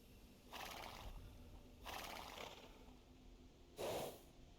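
Scout Cavalry horse in the video game Age of Empires II, three separate breathy snorts or whinny bursts spaced roughly a second apart, the last one louder and sharper, over a quiet background.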